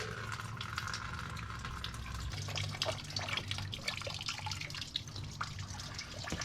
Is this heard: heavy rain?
no